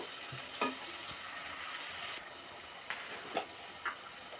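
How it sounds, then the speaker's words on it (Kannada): Onions sizzle in oil in a pan for aloo bonda, a soft continuous frying hiss with a few faint clicks and stirring taps, quiet and close. "ಈರುಳ್ಳಿ ಇದು ಸ್ವಲ್ಪ ಫ್ರೈ ಆಗಬೇಕು"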